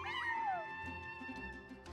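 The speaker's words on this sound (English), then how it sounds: "that's my neighbor's cat" A cat in the video game Genshin Impact gives a short, rising meow. Game music plays underneath and continues after the meow.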